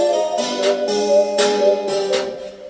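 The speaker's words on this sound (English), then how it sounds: "again, very simple open hat" Simple open hi-hat pattern within a hip-hop drum beat, bright airy hits ringing out at regular intervals over steady sustained chords, loud and close with no voices.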